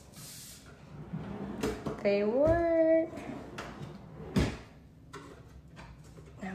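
Homemade wooden drawers on a DIY desk slide and knock shut with a few short scrapes and thuds, mixed with a person speaking briefly nearby.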